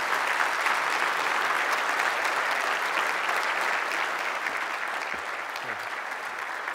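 An audience at a Swedish lecture event gives warm applause to welcome Professor Roger Scruton to the stage, dense and sustained clapping from a large room that holds steady and tapers only slightly.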